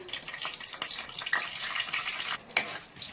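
Mustard, cumin, fenugreek seeds and black pepper frying in hot oil for a small fish curry, a steady close crackling sizzle with scattered pops and no talking.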